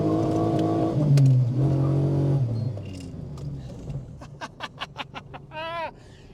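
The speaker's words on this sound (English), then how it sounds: "it makes you smile, it's got all the noise, the V6 roar" The 3.2 V6 engine of a Daewoo Matiz revs loudly from inside the cabin, then eases off, followed by a run of sharp ticking clicks and a brief rising whine.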